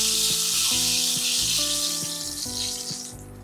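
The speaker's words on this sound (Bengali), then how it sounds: "দুই পাশে রং করে ভেজে নেওয়ার পর তেল থেকে উঠিয়ে নিচ্ছি" Whole eggplant frying in hot oil sizzles and crackles loudly and steadily, with a broad hiss and faint clinking in the background, fading slightly toward the end.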